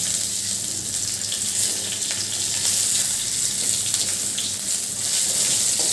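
Panch phoron spices with bay leaf and dried chillies sizzling in oil in a kadai for an Assamese dish, with a little water added; a steady, close, loud hiss and crackle runs throughout with no talking.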